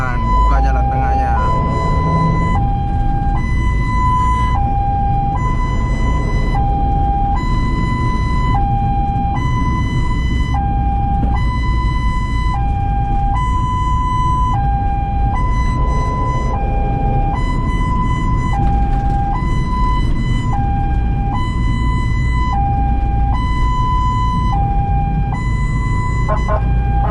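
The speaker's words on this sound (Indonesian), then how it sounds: "Itu ambulans juga guys." A loud ambulance siren wails steadily in two alternating tones for the whole stretch, close by in traffic, over low engine rumble.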